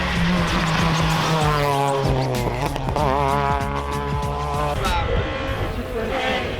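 A modified Honda Civic tears through an autocross course with a loud, continuous engine note, rising and falling through revs, with brief tire squeal as it corners.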